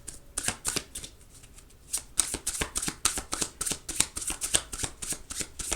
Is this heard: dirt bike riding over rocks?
no